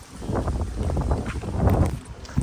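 Steady wind at a lakeshore rushing and buffeting against the microphone, a low rumbling roar with gusts throughout.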